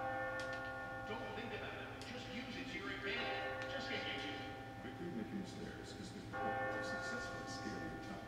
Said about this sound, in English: That bell also gets really fucking annoying.